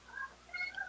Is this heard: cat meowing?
yes